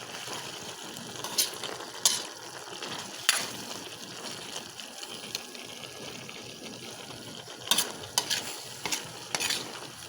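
Pork igado with liver being stirred in a frying pan, a steady sizzle broken by several sharp scraping clinks of a utensil against the metal, close and moderately loud with no voices.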